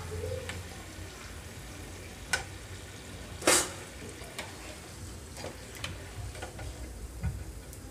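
Purnam burelu frying in oil give a soft, continuous sizzle with scattered small pops and one sharper clack, steady and close, with no voices.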